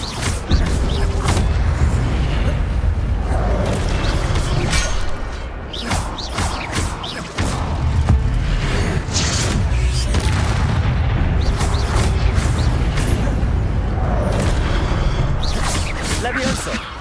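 Incendio fire spell blasts in combat in the video game Hogwarts Legacy: loud, dense booming bursts that hit repeatedly across the clip over a constant bed of game sound, with a brief dip in the middle.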